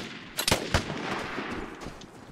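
Gunfire in the Vigor shooter game, a few sharp shots near the start followed by scattered weaker bursts over a constant noisy battle ambience.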